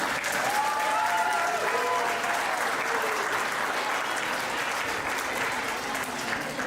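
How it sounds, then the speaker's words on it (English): A school auditorium audience at a fifth grade orchestra and band fall concert claps steadily for several seconds, a dense, even wash of applause with faint tonal sounds drifting through early on. "Please give them a warm round of applause."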